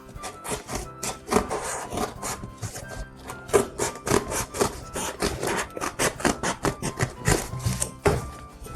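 Cardboard carton being cut for a Christmas crib, heard as close, irregular scraping and rasping strokes with sharp rubbing bursts in an uneven rhythm.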